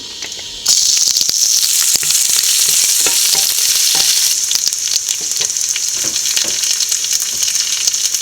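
Dried red chillies and small shallots fry in hot oil. A loud, dense crackle starts abruptly and keeps going, with frequent sharp pops and the scrape of stirring up close.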